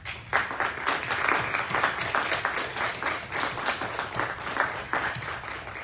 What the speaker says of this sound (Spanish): a quien pido por favor que le regalen un aplauso.